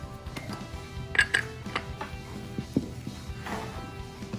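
Cupcake batter with vanilla and baking powder is mixed in a bowl, with light clinks and taps of a utensil against the bowl, soft and irregular at close range.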